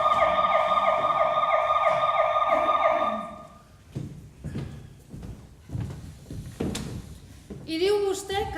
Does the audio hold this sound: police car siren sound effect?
yes